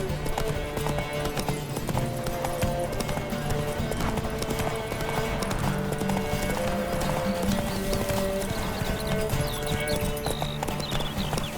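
Horse hooves clip-clop steadily in The Witcher 3 on PS5, a continuous galloping rhythm with occasional whinnies layered over in-game music and ambience.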